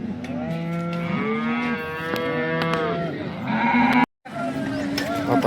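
At a cattle market, cows low repeatedly in long, loud, near moos that overlap one another. Other livestock stir in the background, and the calls briefly cut out near the end.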